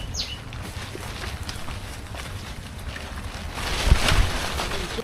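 A small boat moves across the water on a Sunday fishing outing with friends, carrying steady wind and water rush with a brief louder splash or knock near the end.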